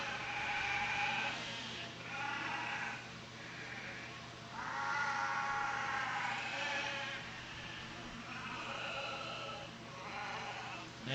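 Dorper ewe lambs bleat repeatedly at a sheep show, with several drawn-out calls rising and falling over a steady background hum.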